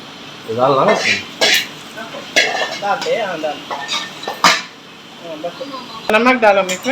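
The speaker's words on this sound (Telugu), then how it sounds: "ఒకసారి మంచిగా కలుపుకుంటే పులిహోర అయితే రెడీ అయిపోద్ది" Pulihora (tamarind rice) being mixed in a metal vessel, with sharp clanks and scrapes of a utensil scattered among voices talking nearby.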